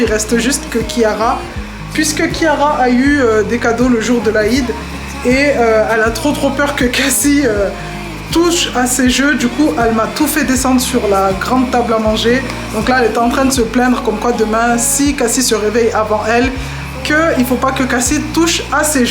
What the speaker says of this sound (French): je sais pas si vous entendez en fond, mais il y a l'aspirateur qui est en train de nettoyer.